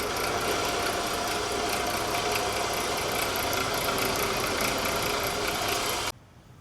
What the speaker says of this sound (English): Got her set up here in a bandsaw.